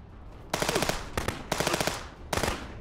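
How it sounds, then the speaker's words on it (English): Automatic gunfire in the video game Contraband Police comes in three loud, rapid bursts separated by short gaps, each a dense rattle of shots. "They're just firing over there like blind fucking raccoons."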